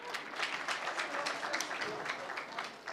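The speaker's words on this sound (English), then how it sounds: "Another round of applause, ladies and gentlemen." An audience at a labour law conference applauds with steady, dense clapping for about three seconds, heard from a distance at low volume.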